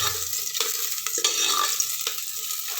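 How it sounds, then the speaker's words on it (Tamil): Chopped vegetables and slit green chilies crackle in oil for millet kanjee, a bright, dense sizzle with several quick scraping stirs across a short, close stretch and no voices. "வேகட்டும் எண்ணெயில் கொஞ்சம்"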